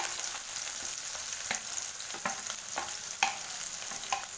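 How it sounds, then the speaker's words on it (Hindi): Onion, ginger and garlic sizzle in hot oil in a kadai, a steady bright frying hiss broken by occasional stirring scrapes and clinks, close and alone with no talk. "अब इसमें मैं ये प्याज, अदरक, लहसुन ये सब ये डाल के एक साथ भूनूंगी।"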